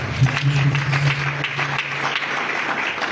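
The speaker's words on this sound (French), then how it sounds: "Acclame pour Jésus-Christ" Church congregation applauding, a dense, steady burst of clapping close by under a faint sustained hum.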